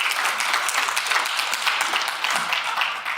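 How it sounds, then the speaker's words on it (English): Keynote event audience claps steadily in dense, sustained applause, loud and close throughout. "Give him a round of applause for raising me."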